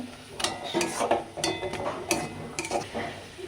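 A spoon scrapes and clicks against a pan while grated coconut and jaggery are stirred together, a series of irregular close taps and scrapes with no voices.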